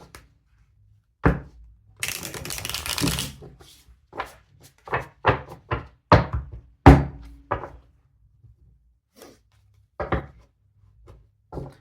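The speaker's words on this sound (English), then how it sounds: "feel free to fast forward through the shuffling if you like" Tarot cards being shuffled and tapped against a surface in a string of short, sharp thuds and a brief riffling burst, close and fairly loud with quiet pauses between.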